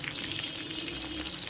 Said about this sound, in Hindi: ये देखिए ये फ्राई हो रहे हैं